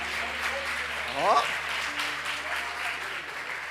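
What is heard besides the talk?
audience applauding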